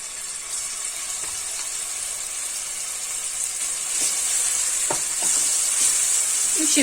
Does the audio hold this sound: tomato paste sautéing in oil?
yes